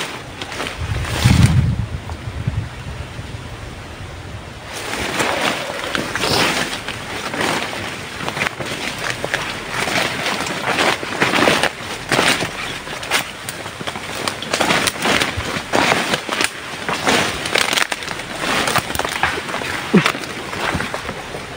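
Strong wind buffets the microphone with continuous roaring gusts, a brief low thump near the start.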